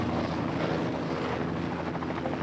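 A helicopter that has just lifted off carrying an injured person on the Île de Ré, its rotor and engine roaring loudly and continuously throughout with no pauses or other sounds breaking through.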